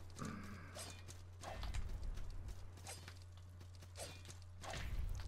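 A horse enemy in the video game Salt & Sanctuary, with repeated hoof clip-clops and rushing hits in game combat, interrupted by a few sharp swooshes and impacts, fairly quiet overall with no talk.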